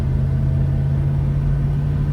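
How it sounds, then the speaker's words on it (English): A Raven Black 1969 Ford Mustang Boss 429 with matching-numbers engine and 3.91 gears cruises in a higher gear, giving a loud, steady low rumble heard close up from inside the car. "shifting through the gears. Everything working on this one. Runs and drives smooth. Now up into third gear."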